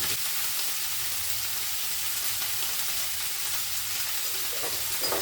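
Mixed leafy greens with a green chili fry in a pan, giving a steady, close hiss and crackle, with faint stirring near the end and no talking.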